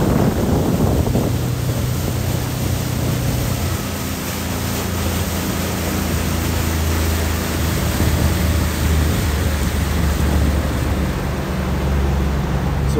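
Hamburg harbour tour boat picking up speed on the water, a loud continuous rush of wind, engine rumble and splashing that stays steady throughout with no voices.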